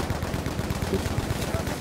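Battlefield V gunfire rattles in rapid bursts, a fast, continuous chatter of automatic weapon shots at close range, with a voice faintly under the firing.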